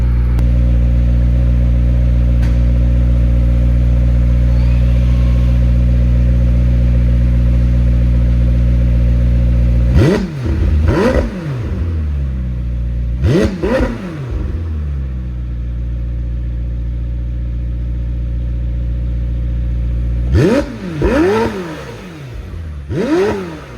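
A deep engine idles steadily, then the exhaust of a 2025 McLaren 750S sports car blips and revs sharply several times in quick bursts, loud and close.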